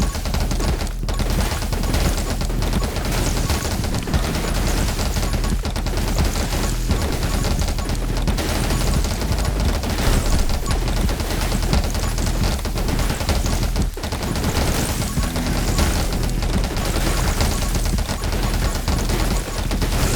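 A shotgun firing in 20 Minutes Till Dawn, blasting continuously in a dense, relentless stream of loud shots layered over busy game music and effects for the full twenty seconds.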